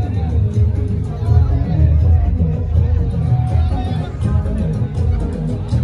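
Crowd gathered at a night Garba dance for Navratri outside Dronagiri Aai temple in Nawapada Karanja, a dense hubbub of many voices and chatter with low rumbling noise, steady and close throughout.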